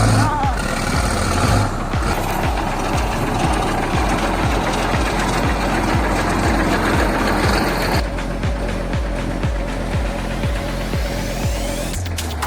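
A logging truck's engine labors as the truck powers over a huge rock, giving a loud, steady drone with heavy rhythmic thumping throughout, and voices can be heard over it.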